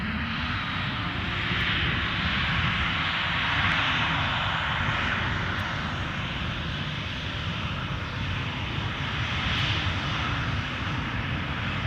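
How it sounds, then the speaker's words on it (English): A SunExpress jet airliner departs Edinburgh Airport, its engines producing a steady, loud, broad roar that holds for the whole stretch with no voices over it. "I can hear the sounds of the Sun Express next in line. So back-to-back departure action."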